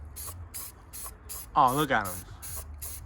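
Spray paint can sprayed on a G35 car body: a run of short, evenly spaced hissing bursts, close and clear, with someone speaking briefly over the middle.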